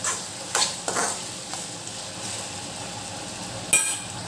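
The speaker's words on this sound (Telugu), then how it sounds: "మామిడి ముక్కలు వేసుకొని మనం టమోటో ముక్కలు, ఆనియన్స్ బాగా ఫ్రై చేసుకున్నాం" Mango, tomato and onion pieces frying in a pan, a steady soft sizzle with a few stirring scrapes and clinks of the spoon, close and without talk.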